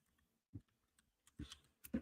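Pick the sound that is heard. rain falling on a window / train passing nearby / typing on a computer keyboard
typing on a computer keyboard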